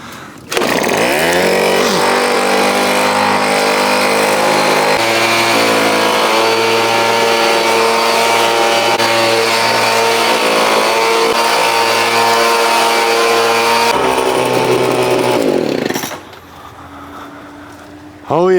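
A leaf blower roars loud and steady for about fifteen seconds while clearing leaves off concrete, then winds down to a low idle before revving again, with someone talking over it.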